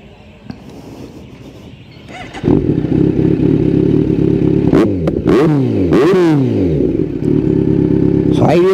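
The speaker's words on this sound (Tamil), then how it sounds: "ஸோ நம்ம எக்ஸாஸ்ட் நோட் கேட்போம்." Kawasaki Z900 motorcycle fitted with an Austin Racing aftermarket exhaust, a loud, very throaty idle that jumps up at once, then three or four sharp revs rising and falling, close and alone.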